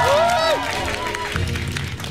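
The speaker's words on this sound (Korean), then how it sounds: "박수!" A studio audience at a public radio broadcast marking a pedestrian-safety special gives a brief burst of clapping and cheering, with a voice and other sounds mixed in over the short applause.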